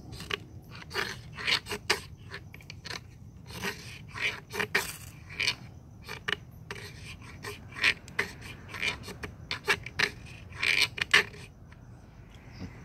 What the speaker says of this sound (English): I think I'm going to scrape off some ferro dust to help myself out